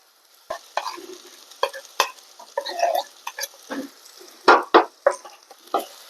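A spoon stirs oil-fried Kashmiri chilli and coriander powder into a tuna curry, giving quiet sizzling under a series of close, uneven scrapes and knocks against the pan.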